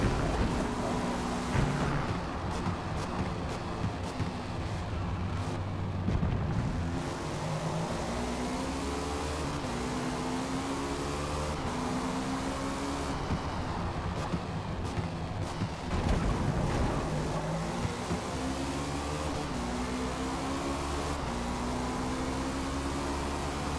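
Race car engines roar at Daytona in the Forza Motorsport video game, a loud sustained drone with rising gear-change sweeps and shifts as the car slipstreams and overtakes the leaders.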